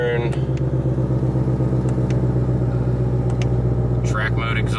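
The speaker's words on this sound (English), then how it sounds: "track mode exhaust on. Let's get you some revs here, boys. See what she really sounds like." A 2020 Ford Shelby GT500 idles in track exhaust mode, a deep, steady, close rumble with a few sharp clicks, while someone talks over it.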